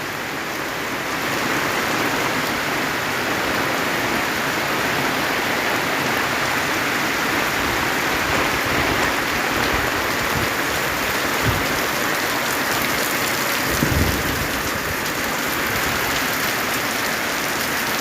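Heavy rain pours steadily over a flooding village, a dense continuous roar of water with rushing floodwater and strong wind, loud and unbroken throughout.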